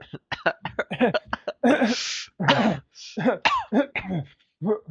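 A young gamer fakes an awkward cough with a short throaty burst in the middle of casual chatter, the voice imitating the cough between stretches of talk.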